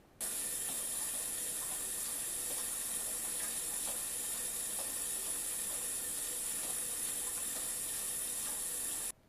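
Cold water runs steadily into a sink around a pot of beer wort, a faint, even hiss and splash that holds for several seconds.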